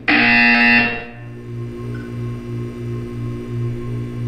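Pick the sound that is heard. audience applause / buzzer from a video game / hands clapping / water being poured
buzzer from a video game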